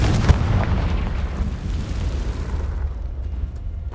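Confringo blasting spell from Hogwarts Legacy exploding: one loud, close blast opens, then a rumbling roar slowly fades away, with no talk.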